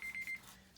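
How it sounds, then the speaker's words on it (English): A craft timer goes off with a quick run of short, steady beeps over a faint background hum, then stops. "Oh, there went my timer."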